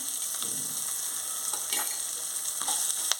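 Ginger and green chillies fry in a pan of hot oil for jowar upma, giving a bright, continuous sizzle with faint crackles and stirring taps throughout.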